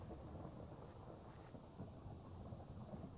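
Steady, fairly faint rush of sideways-driven rain and stormy wind in a Minecraft tornado storm, a continuous broadband wash of low rumble and hiss with no distinct claps.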